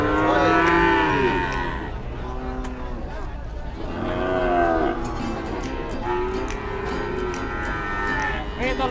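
Breeding heifer cattle at the Wirosari cattle market in Purwodadi, Grobogan, give three loud, close moos, one at the start, one midway and one near the end, each long and drawn out, with market background noise between them.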